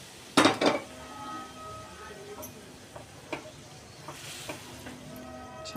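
A spoon scrapes and clinks against a pan while mashed pav bhaji vegetables are mixed, with a sharp burst of clatter near the start, then scattered lighter taps and scrapes close by.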